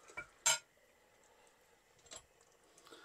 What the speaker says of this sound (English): Then we will have a stir.